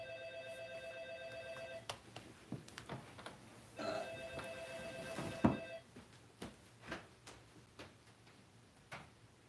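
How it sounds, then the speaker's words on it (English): An apartment doorbell or intercom buzzer rings in two bursts of repeated electronic tones, separated by ticking and faint room sounds, moderately close and with no talking. "Is that my doorbell?"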